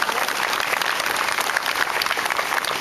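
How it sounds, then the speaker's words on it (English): Audience applause at an outdoor September 11th memorial ceremony for the national anthem singer, a steady wash of many hands clapping from a crowd, unbroken and without talk. "Round of applause for our national anthem, Taylor Lee Cannon"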